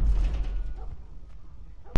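Explosions in The Last of Us, a deep rumbling blast that fades over about two seconds, then a sharp sudden bang at the very end.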